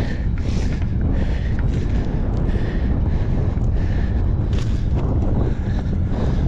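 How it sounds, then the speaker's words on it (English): Steady, loud wind buffeting the microphone, a constant rumbling roar with gusty fluctuations throughout, no voices. "Might be a little windy."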